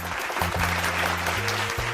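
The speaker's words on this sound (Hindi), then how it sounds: "हम जोरदार तालियों के साथ आपका स्वागत करते हैं" Applause from an audience at a Jain bhajan singing competition fills the whole moment, steady clapping over a low hum of background noise.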